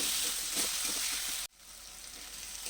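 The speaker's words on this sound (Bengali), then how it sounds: "এখন গ্যাসের আঁচটাকে মিডিয়াম করে রাখবে। এটাকে 2 থেকে 3 মিনিট মতন কষে নেবে।" A spice masala is being sautéed over medium gas for a mutton tiwaran curry, a loud close sizzle with light stirring that cuts off abruptly, then returns as a quieter, rising hiss.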